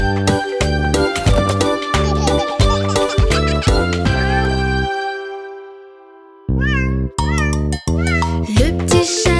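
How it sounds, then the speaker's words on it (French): A sung children's nursery tune about a little cat, with steady rhythmic backing music and held melodic notes; a gap near the middle, then a wavering high meow-like vocal swoop before the loud music resumes. "Le petit chat, le petit matou"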